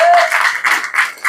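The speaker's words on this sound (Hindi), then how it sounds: "जोरदार तालियां।" A seminar audience breaks into a brief, loud burst of dense applause, many hands clapping at once in a short crowded wash of sound.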